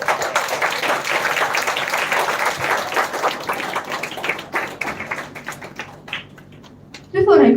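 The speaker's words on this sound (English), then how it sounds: "Let's welcome them with a resounding cheer." Applause from a theatre festival audience at a children's literature event, dense steady clapping for about six seconds that thins and fades, followed by a brief loud burst at the end.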